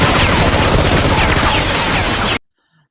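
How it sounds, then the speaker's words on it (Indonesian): Dense, continuous gunfire rattles loudly for a couple of seconds, then cuts off abruptly to silence. "mereka justru menghujani Caleb dari luar dengan tembakan beruntun"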